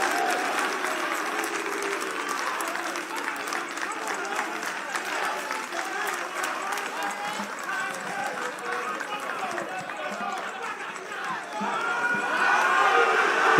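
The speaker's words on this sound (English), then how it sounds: "One more time, a round of applause, a round of applause, a round of applause to all our contestants." A school audience at a national science and maths quiz final in Ghana claps and cheers for contestants from Opoku Ware, Adisadel and Presec. The energetic applause is mixed with shouts and crowd voices and swells again toward the end.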